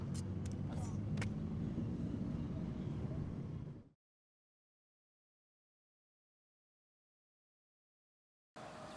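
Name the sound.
car being driven fast through the city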